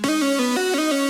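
A bright synth lead plays in a music mix, a buzzy, harmonically rich tone stepping through a short run of sustained notes with clear pitch changes.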